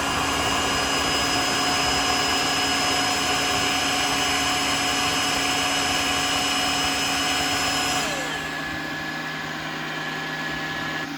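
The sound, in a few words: Tineco Floor One S3 wet-dry vacuum cleaning the floor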